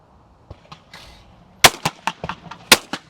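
Shotgun fire on a skeet field: a few soft distant pops, then two loud, sharp close blasts, each followed by quick trailing cracks and echoes.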